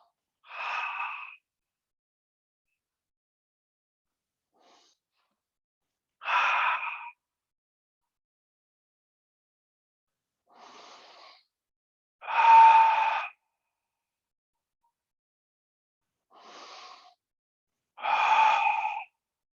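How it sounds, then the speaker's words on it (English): Slow, steady yoga breathing in the Ujjayi style, six separate audible breaths spaced by long silences, each a close, breathy rush through the throat with no talking. "Now you may choose to breathe out of your mouth with a Ujjayi breathing"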